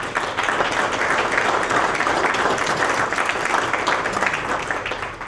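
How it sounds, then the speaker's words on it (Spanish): Welcoming applause at a business breakfast, a roomful of people clapping steadily and fairly loudly, the dense patter holding even before easing slightly at the end. "le demos un aplauso de bienvenida"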